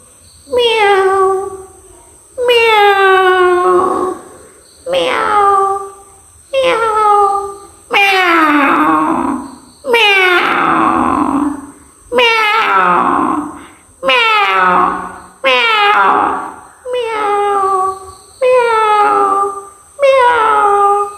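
A mimicry artist on stage imitates a female cat and a tomcat crying, giving about a dozen loud, drawn-out meows and wails in a steady alternating rhythm with short pauses between.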